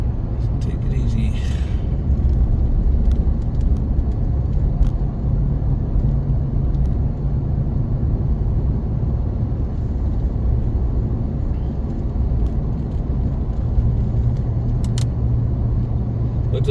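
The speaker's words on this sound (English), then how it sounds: "It doesn't take long to get used to driving around here." A car driving along a snowy winter road, a steady low engine and tyre rumble droning evenly and fairly loud from inside the cabin, with no talk.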